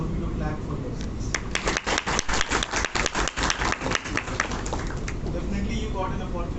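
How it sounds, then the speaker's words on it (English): Students in an audience at a college innovation competition final clap for themselves, a burst of brisk, closely packed handclaps lasting a few seconds before fading into room noise and voices. "I want to all of you to clap for yourselves"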